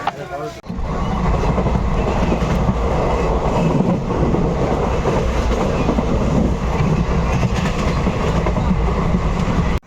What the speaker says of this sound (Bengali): এখন ট্রেন এসে দাঁড়িয়েছে শিবন জংশন স্টেশনে।